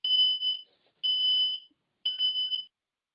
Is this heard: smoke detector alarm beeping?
yes